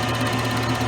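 A milling machine face mills a workpiece with the power feed engaged, a dense continuous whir with low humming undertones, loud and steady for a brief moment without speech.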